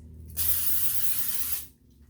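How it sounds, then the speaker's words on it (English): A steady hiss of aerosol cooking spray onto a deep-dish pizza pan, one continuous burst of about a second, close by and loud against a quiet background. "I'm just gonna spray our pizza pan here."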